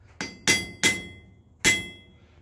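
Four ringing hammer strikes on a new steel anvil, bright and metallic with a clear sustain, spaced unevenly, close and alone without talk.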